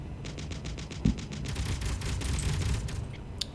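Machine gun turrets in the Space Engineers video game fire in rapid, even bursts, a steady chattering volley over a low rumble with a sharp thud partway through.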